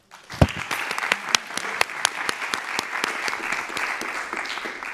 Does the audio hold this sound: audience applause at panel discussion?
yes